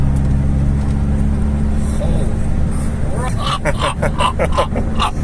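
An Isuzu 3.0L DDi turbo diesel engine with stainless exhaust drones steadily from inside a vehicle moving at 120 km/h while people talk over it.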